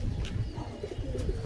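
Pigeons in a loft coo in short, deep, burbling calls, several overlapping close at hand with light chirps mixed in.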